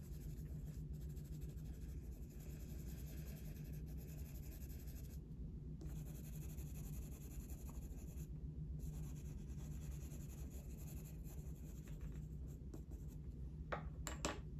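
A coloured pencil, pressed lightly, scratches over drafting film as layers are added to a badger's nostrils. The soft, continuous rubbing is faint and close, with small bursts of stroking and no talk.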